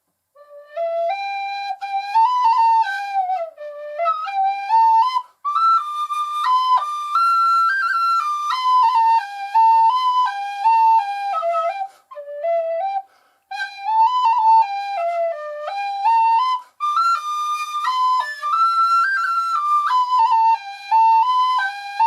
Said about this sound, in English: it really is quite a nice little sounding whistle